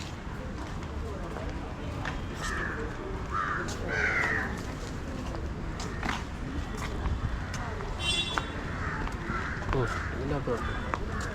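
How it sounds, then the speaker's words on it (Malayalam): Crows caw at Thiruvananthapuram zoo, a few short harsh calls rising over a steady wash of crowd noise and distant voices. "ഒന്ന് കാക്ക അതിൻ്റെ ഇറച്ചി തിന്നുന്നു."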